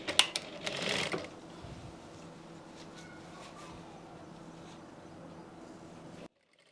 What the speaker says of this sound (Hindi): यहाँ से सिलाई लगाना स्टार्ट करेंगे